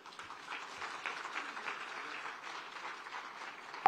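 A Nagpur audience applauds steadily for about four seconds at a public event attended by minister Nitin Gadkari and actor Nana Patekar, a dense, even wash of many hands clapping with no voices over it.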